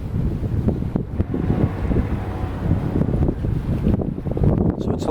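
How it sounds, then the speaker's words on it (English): Strong wind buffeting the microphone aboard a single-engine boat in a narrow fairway, a continuous low rumbling roar with gusting surges throughout. "So it's a little windy. You can hear the wind"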